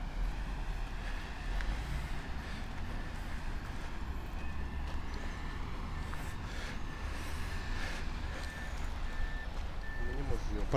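A truck lowering a load at the abandoned ZiL plant gives off steady intermittent reversing beeps over continuous engine and industrial rumble, with voices talking in the background throughout.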